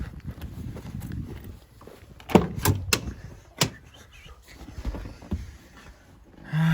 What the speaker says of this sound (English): Left front door open and closed.